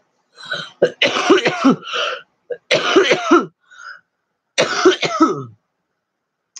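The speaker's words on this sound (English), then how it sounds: "That cough hit me out of nowhere" Three bursts of harsh, throaty coughing close to the microphone, separated by short silent pauses.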